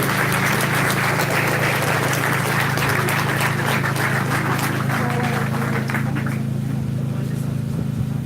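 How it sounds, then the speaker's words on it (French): Audience applause at a yellow vests general assembly in Toulouse, a wash of clapping over a steady low hum, thinning out toward the end. "Vous pouvez les applaudir."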